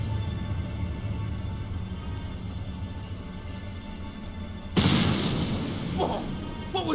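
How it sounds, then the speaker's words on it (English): In the video game Black Mirror III, a sudden sharp gunshot-like bang breaks through a steady ambient hum near the end, followed by a brief fading tail. "Whoa! What was that? Sounded like a gunshot."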